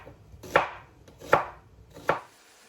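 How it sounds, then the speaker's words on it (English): Three separate knife chops on vegetables being cut finely for a chicken and chorizo jambalaya, evenly spaced and crisp at close range, with no talking. "I'm going to prepare my vegetables by chopping them all finely."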